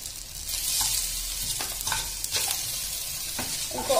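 Cumin, ginger, raw turmeric, green chilli and tomato fry in ghee or oil in a pan for a savoury daliya breakfast, with a steady close sizzle and occasional stirring scrapes throughout, and no talking.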